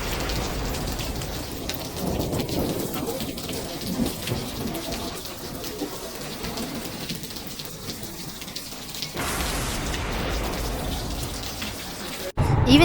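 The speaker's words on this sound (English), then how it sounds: "out of nowhere it just started raining" Heavy rain falls during a thunderstorm on the way to Nami Island, South Korea, a steady loud hiss of rain with deep rolling thunder rumbling beneath it.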